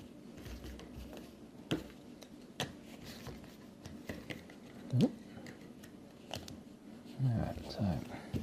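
Board game tiles are shuffled by hand on a table, giving scattered light clicks and clattering bursts under quiet talk.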